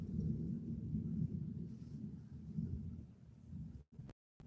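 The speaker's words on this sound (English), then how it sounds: "That thunder is so loud you can actually, I can feel and hear it shakes." Loud thunder rolls as a deep, sustained rumble with a swelling, shaking low-end, heard alone for several seconds before cutting off abruptly.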